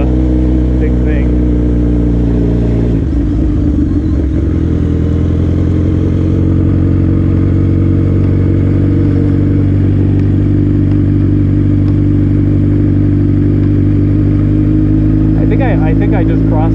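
A modified Suzuki GSX-R1000 sport motorcycle rumbles loudly and constantly while being ridden, its engine drone close and steady with slight shifts in pitch, and a voice speaks over it.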